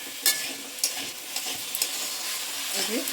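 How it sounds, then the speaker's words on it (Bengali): Potato and radish fry in a pan with a bright continuous sizzle, broken by several quick stirring scrapes, close up with no talking. "আলু মুলোটা একটু ভালো করে কষে নিচ্ছি"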